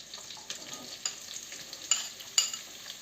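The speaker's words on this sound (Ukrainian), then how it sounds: "І обсмажуємо ще з цибулею." Meat and onions frying in a pan with a soft, continuous sizzle, broken by several brief scraping clicks of stirring, close and fairly quiet with no talk.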